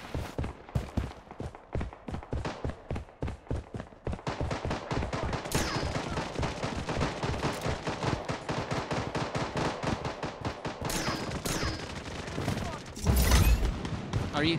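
Rapid gunfire in the Blood Strike battle royale video game, dense bursts of automatic shots and loud single blasts mixed with footsteps, with a player talking intermittently over the action.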